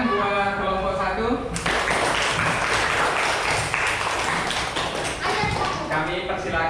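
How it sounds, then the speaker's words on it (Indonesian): Classroom students give sustained applause for a presenting discussion group, a dense, steady wash of clapping lasting several seconds, with a voice speaking just before and faint talk near the end. "tepuk tangan buat kelompok 1"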